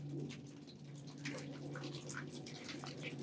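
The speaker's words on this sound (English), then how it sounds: "we've got a good steady stream coming from right there where the ice and water shield is. Look at that flow" A steady stream of snowmelt water runs off a cabin roof at the ice and water shield, a constant splashing trickle with scattered drips, fairly close.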